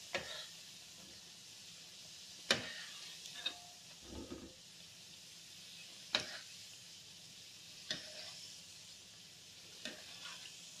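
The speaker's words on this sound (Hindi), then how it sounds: "पलट के दोनों साइड से गोल्डन ब्राउन होने तक हमें इनको सेकना है।" Spring rolls fry in a pan of oil, a steady soft sizzle broken by occasional sharp clicks and taps as they are turned, close and moderately quiet.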